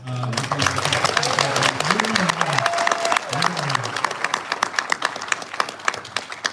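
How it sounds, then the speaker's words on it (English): A crowd claps in a quick, dense patter that fades toward the end, while a voice talks briefly underneath. "round of applause to Kyle."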